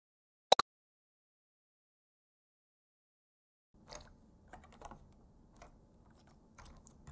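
Computer keyboard keys click and rattle while being cleaned of dirt: a sharp double click, then a silent gap, then soft, irregular clicking and scratching close by.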